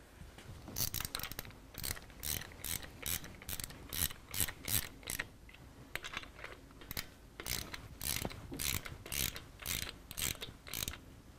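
A bolt is threaded in by hand on a Harley-Davidson Twin Cam engine during a cam replacement, giving quick bursts of ratcheting clicks in rhythmic strokes with short pauses between, close and fairly quiet.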